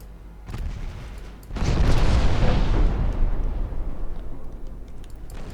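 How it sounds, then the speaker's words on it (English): Torpedoes strike a ship in a naval video game, setting off a sudden loud, booming explosion that rumbles and slowly fades over several seconds. "I'm gonna take some torpedoes here"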